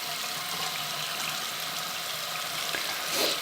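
Running water rinsing a makeup brush under a tap, a steady faint hiss of flow with a slight swell of splashing near the end, no talking.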